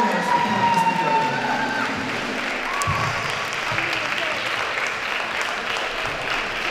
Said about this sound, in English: can we give these wonderful young people a round of applause right now for putting this together